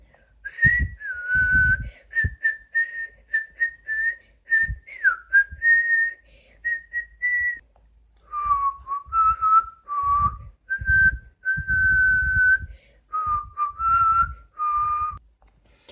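A person whistles the Star Spangled Banner alone, not very well, clear sustained notes in a steady melodic line with short breaths between phrases, close and fairly loud.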